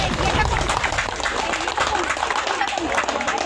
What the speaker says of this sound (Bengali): এটা হাততালি হবে।